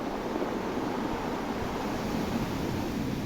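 Ocean waves roll onto a beach in a continuous, soft broadband wash, steady and moderately faint, with no voices over it.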